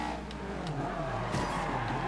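A race car in Forza Horizon 2 with its brakes locked up, engine drone under a short tire skid and squeal that swells partway through, with no talking.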